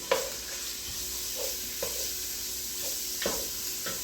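Bacon bits fry in a pan for a smoked gouda carbonara, giving a steady crackling sizzle punctuated by a few soft scrapes and taps of stirring.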